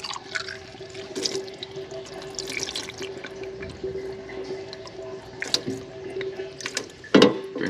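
Used engine oil drains from a hot drain plug into a container, a faint continuous trickle with scattered drips and a few sharp clinks, steady and close in a quiet garage setting.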